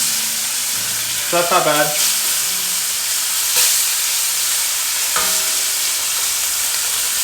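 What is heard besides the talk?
searing braised beef short ribs in a pan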